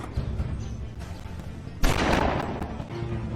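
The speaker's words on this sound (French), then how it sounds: "Je vous dis que ce sont des coups de feu." A single loud gunshot bursts out partway through, following a rumbling, muffled stretch, and its harsh echo trails off afterward.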